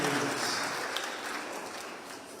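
Steady, dense applause fills a Sunday school gathering at an ACK church in Thika, a continuous crowd clapping that holds at an even level and eases off slightly toward the end.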